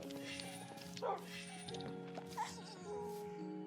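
Dogs in the Minecraft video game barking in a busy chorus, with several sharp yips standing out over a layered background of game music and overlapping noise.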